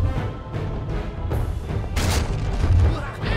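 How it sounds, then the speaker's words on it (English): Cannon fire in the video game Rock of Ages: heavy booms and crashing impacts sound over a dense, rumbling game soundscape, loud and continuous with a sharp burst midway. "Oh my god, there's a cannon!"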